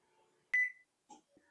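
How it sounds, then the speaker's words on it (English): A microwave oven timer goes off with one sharp, loud electronic beep, then a fainter short tone and a soft trailing sound, all in a quiet kitchen with no talking. "All right, the timer just went off."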